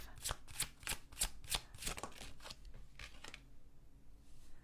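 A deck of deity oracle cards being shuffled by hand, a fast run of crisp riffling bursts that slows and thins out toward the end, close and fairly quiet with no talking.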